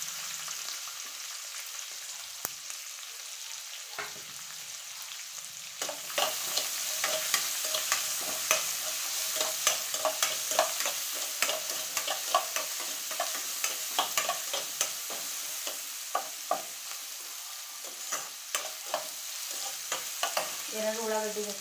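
Onions and curry leaves fry in a pan for capsicum palya, with a steady sizzle broken by frequent scraping, clattering stirs that grow busier partway through, close and clear with no talk.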